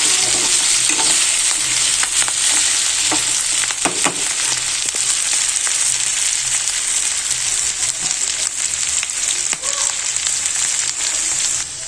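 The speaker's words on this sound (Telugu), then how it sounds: "మీడియం ఫ్లేమ్ పైన ఫ్రై కానివ్వాలండి." Potatoes for aloo fry cook in a pan on a medium flame, giving a loud, dense, steady sizzle with scattered spatula scrapes and taps throughout, no speech.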